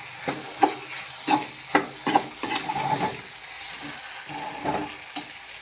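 A spoon scrapes and turns ridge gourd poriyal with grated coconut in a pan, about a dozen distinct stirring strokes over a faint sizzle, close and moderately loud, no talking.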